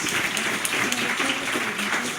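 An audience at the close of a university colloquium applauds the speakers, a dense steady patter of many hands clapping at moderate volume.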